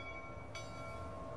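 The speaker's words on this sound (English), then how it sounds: "Now leaving from Platform 3, train for Vancouver." A train waits at a station platform, a low steady rumble and hum with a faint brief hiss partway through, heard alone without voices.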